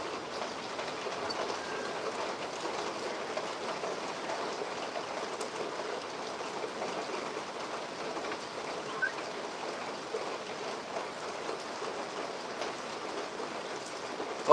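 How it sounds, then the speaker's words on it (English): Hail falls steadily during a storm, a faint, continuous hiss of dense patter with scattered ticks and clicks, even and unbroken for the whole stretch, with no voices. "Oh, it's hailing."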